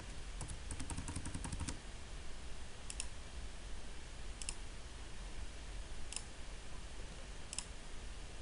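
Brief clusters of quiet key clicks from typing on a Surface Pro keyboard: a quick run of taps early on, then single faint clicks spaced a second or so apart over a low background hum.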